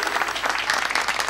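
Audience applause welcoming an energy company general manager to the podium at an opening speech, a brief steady wash of clapping from a crowd with no other voices over it.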